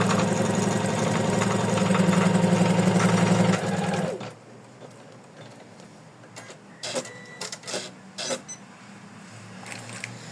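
Embroidery machine stitching a placement line for an in-the-hoop heart ornament, a fast, loud, close mechanical rattle that runs steadily for about four seconds and stops, followed by quiet handling clicks and taps.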